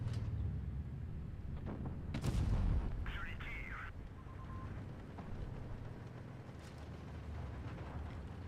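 A tank main gun fires once in an AMX MLE tank video game, a sudden loud boom that rolls off into rumbling background noise, followed by a short mechanical whir.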